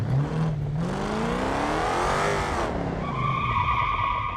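A BMW in a video game skids and revs loudly, engine pitch sweeping up and down over sustained tire screech, ending in a high steady whine.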